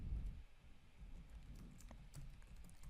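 Fingers tap out a terminal command on a computer keyboard during Ubuntu server setup, producing quiet, quick, irregular clicks in a steady run against faint room noise.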